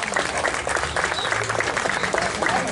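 An audience at a book presentation applauding steadily for a few seconds, dense clapping filling the room without a break.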